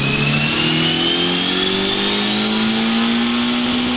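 A turbocharged Honda Civic hatchback with a B18 engine revs hard on a dyno, its pitch climbing steadily under a loud, close, sustained whine.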